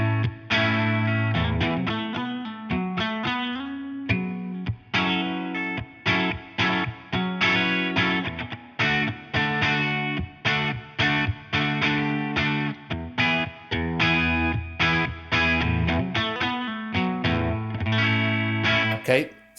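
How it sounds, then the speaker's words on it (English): Electric guitar riff played through an OPFXS Twin Boost pedal, close and loud with a distorted, driven tone; choppy chords repeat in a steady rhythm with short gaps between phrases. "Okay, so I'm going to just play a little riff."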